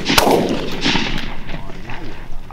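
A shotgun blast goes off during a mourning dove hunt, a sharp loud crack near the start followed by a long rolling echo that fades over a couple of seconds.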